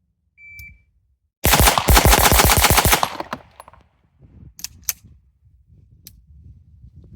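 Rapid string of ten pistol shots from a Staccato XC compensated handgun fired at a range, preceded by a short timer beep, with the sharp cracks packed tightly together and a few faint thumps and clatters afterward.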